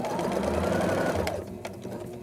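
A sewing machine stitches around a circle on small size-2 button-on pants, running steadily and close up, then easing off near the end.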